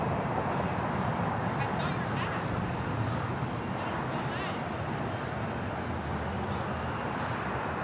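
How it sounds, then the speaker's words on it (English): An Air Premia Boeing 787 Dreamliner rolls down runway 25 right at LAX as a broad, distant jet roar with steady rushing noise and no distinct peaks. "Air Premia, the Dreamliner now rolling down at 25 right."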